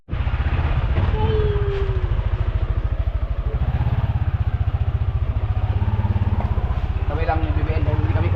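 A motorcycle engine idles up close in a steady low pulsing rumble that runs throughout, with a voice speaking briefly over it.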